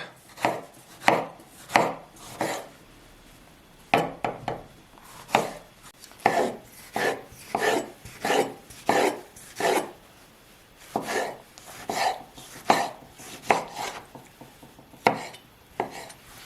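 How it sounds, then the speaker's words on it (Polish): Tomatoes diced into cubes with a knife on a cutting board for a gyros salad, a series of close, distinct thudding cuts in uneven bursts with short pauses between them. "pomidory kroimy sobie również w kostkę"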